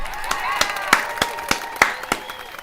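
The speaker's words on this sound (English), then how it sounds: "everybody give yourself a round of applause" Hands clap in a steady, evenly spaced rhythm, about three sharp claps a second, close to the microphone and under a talking voice on a casual music talk show.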